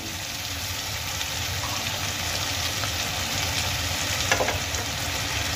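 Shredded cabbage and mixed vegetables frying in a pan, giving a steady close sizzle with light stirring scrapes and one brief louder clatter near the end, and no voice.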